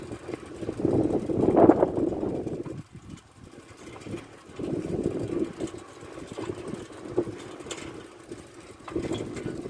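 Engine and wind noise while riding a vehicle outdoors, a low rumbling drone that swells and fades in waves with buffeting air, moderately close.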